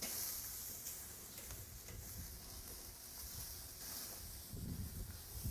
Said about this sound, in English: So we're just going to flip the skirt steak now. Get a nice sear on this side here.